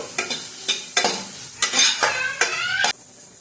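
Tomatoes frying in a pan for paneer bhurji, stirred in quick bursts of scraping and clatter over a hissing sizzle, close up with no talking.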